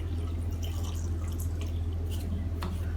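Thin homemade coconut milk trickles and drips into a cooking pot with drumsticks, quiet and close over a low steady hum.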